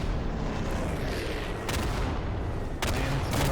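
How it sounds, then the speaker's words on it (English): Artillery fire in the Day of Infamy video game, a dense continuous barrage of rumbling blasts and crackling gunfire with a couple of sharper impacts, steady and fairly distant, no talking. "It's a good artillery at this time."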